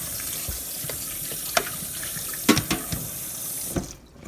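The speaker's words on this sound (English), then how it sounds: "I run cold water to stop the cooking process of the noodles" Cold water runs steadily from a kitchen tap over cooked spaghetti noodles in a sink, a continuous splashing hiss with a few louder clanks and spatters before the flow stops near the end.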